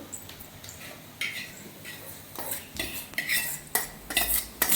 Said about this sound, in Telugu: వేసేసి మనం ఇలా మిక్స్ చేసుకోవడమే